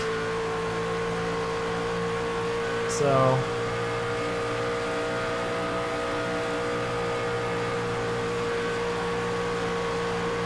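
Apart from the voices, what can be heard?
racing trucks flat out at Chicagoland Speedway, racing video game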